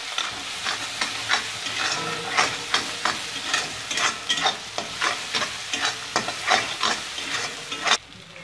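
A ground paste of cinnamon, cardamom and cumin fries in a pan, crackling and sizzling steadily under repeated rhythmic scrapes of a spoon stirring it, close and alone.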